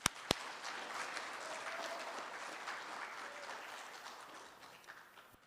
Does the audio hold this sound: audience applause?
yes